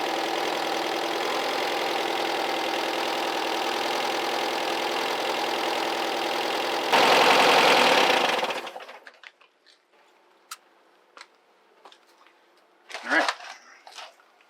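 A 1981 VW Vanagon engine runs at a steady idle during ignition timing, humming evenly and close, briefly getting louder before shutting off, followed by quiet clicks and handling noises.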